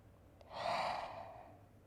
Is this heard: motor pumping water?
no